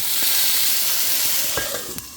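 A loud, bright hiss of water hitting a hot pan of crispy potatoes, steady steam sizzle with a few clicks and clatters near the end.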